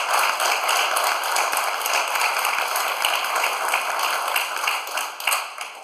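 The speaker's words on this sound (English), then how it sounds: "Those who believe yes, please applaud." A live town hall audience on Oklahoma earthquakes applauds in dense, continuous clapping from many hands, steady and moderately loud, tapering slightly at the end.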